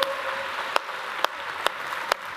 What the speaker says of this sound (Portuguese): Vamos abençoar Jesus com um aplauso